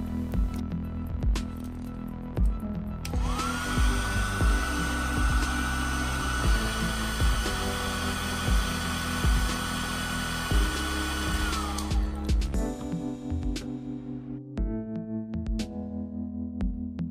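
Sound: hair dryer heating surface

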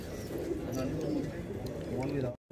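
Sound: pigeons cooing and flying

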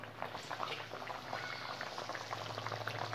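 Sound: parse fish being added to boiling curry with potatoes

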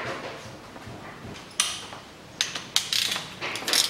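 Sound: unscrewing sensor and ground wire on Nissan Qashqai

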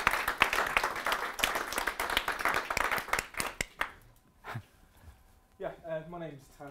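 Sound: audience applause

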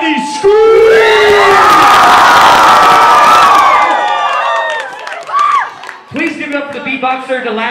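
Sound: crowd screaming and cheering at a freestyle show

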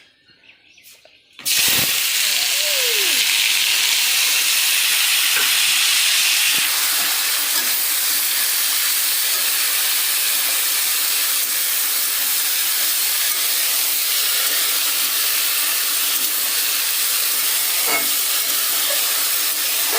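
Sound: potatoes frying in hot oil

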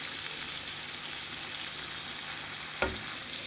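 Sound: stirring chicken puttanesca in a pan

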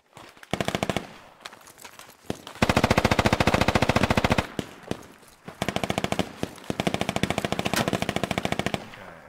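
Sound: machine gun fire, RPK, in video game Squad

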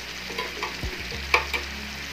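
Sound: stirring chicken sizzling in pan

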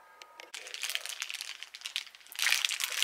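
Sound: plastic baggie crinkling

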